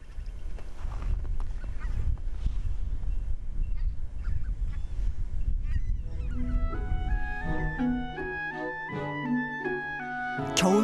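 Wintering migratory geese honk loudly in a flock at a Korean demilitarized zone wetland, a continuous chorus of calls over outdoor rumble, later joined by background music.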